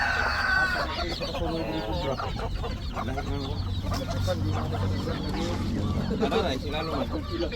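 A rooster crows nearby while chickens cluck and squawk continuously around it, with people talking underneath the birds.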